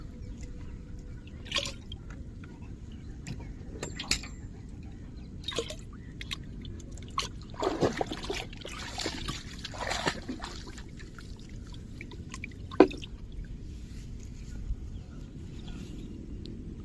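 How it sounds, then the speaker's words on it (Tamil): Panchagavya organic spray, mixed with micronutrients for a seeraga samba paddy crop, is poured into a sprayer tank. Occasional soft drips sit over a quiet outdoor hum, with a few seconds of splashing pour near the middle. "நான் இதை எடுத்து அப்படியே இதில் ஊற்று. ஒரு இது ஃபுல்லாக ஊற்று."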